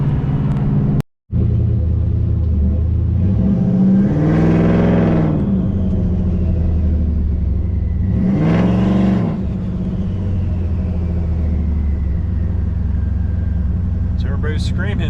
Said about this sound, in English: Turbo's screaming.